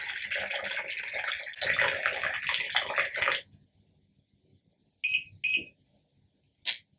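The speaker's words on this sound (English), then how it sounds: "The system will also notify you when it's accepted enough water." A 2-in-1 hydrogen generator, model VH-600, sounds its notification as it fills with enough water, two short electronic beeps followed by a third after a stretch of splashing water noise.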